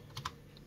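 Typing on a computer keyboard while entering a cell address in Excel: two quick, soft key taps close together, faint and alone.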